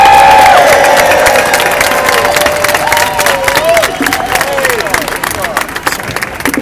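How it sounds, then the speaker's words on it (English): A large, loud crowd at an outdoor public option rally claps and cheers for the speakers. Whoops and shouts rise over the dense clapping, which gradually thins out near the end. "please join me in giving our speakers a round of applause"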